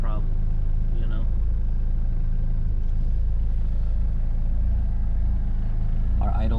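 Turbocharged B20B engine in a Honda Civic EG hatch idling at around 900 rpm, a steady low rumble running throughout with voices talking over it.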